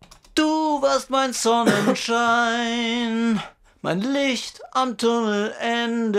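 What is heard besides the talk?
vocal doubler effect on a sung vocal in Cubase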